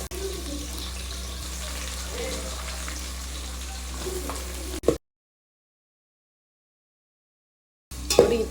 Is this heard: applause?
no